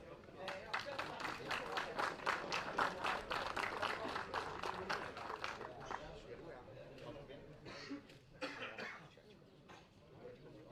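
Audience applause for the Group D podium at a karting race prize ceremony, a steady wash of clapping over about eleven seconds that thins out toward the end, mixed with voices.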